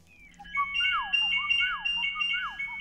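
A telephone ringing in a repeating electronic melody of whistle-like tones, fairly faint and alone, with no talk over it.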